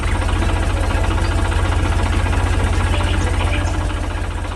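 A green and yellow tractor engine runs steadily in a green field, a loud, close, even idle with a fast low throbbing pulse and no pauses throughout.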